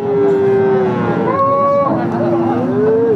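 A Deshal-breed dairy cow moos loudly and close by in long drawn-out calls, over a steady murmur of crowd noise and talk at the Barobazar cattle market.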